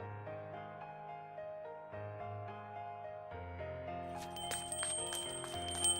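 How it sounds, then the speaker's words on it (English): A shop entrance chime rings out in bright, high, repeated tones over soft background music, clear and moderately close, with no voices. "followed by the ringing of the chime at the store's entrance"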